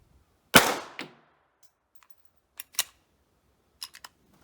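A Hi-Point CF380 .380 pistol fires at an outdoor pistol range: one sharp, loud crack with a short ringing tail, then several fainter, quicker pops and clicks spaced out over the following seconds.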